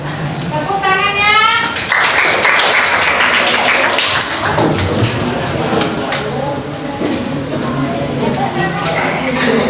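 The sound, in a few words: audience applause after a class group presentation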